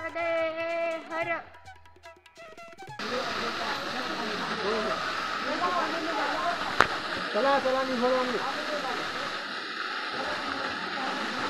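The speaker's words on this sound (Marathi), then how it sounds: "कपिलधारा धबधबा" Kapildhara waterfall on the Narmada river in dense forest sends a steady broad rush of falling water under a voice that speaks over most of it, with a short musical passage at the start.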